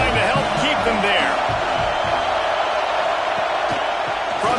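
Stadium crowd in the EA College Football 26 video game, a constant broad roar of fans with scattered shouts, under a commentator talking.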